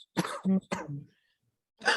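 A single person coughs a few times in quick succession, with a short throat-clearing burst after a pause; close and fairly loud in a quiet room.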